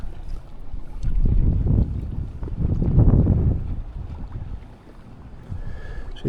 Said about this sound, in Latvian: Arī tas vējš pūš un pūš.